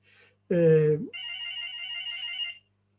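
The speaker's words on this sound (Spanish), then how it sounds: "Suena el teléfono." A telephone rings in a house with a steady electronic warbling trill lasting over a second, heard right after a short burst of a voice.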